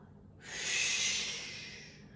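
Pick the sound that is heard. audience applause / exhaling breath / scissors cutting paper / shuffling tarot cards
exhaling breath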